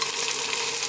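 Minced garlic and onions sautéing in a pan, a steady close sizzle and crackle of frying with no voices over it.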